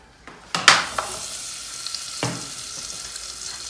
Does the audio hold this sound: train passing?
no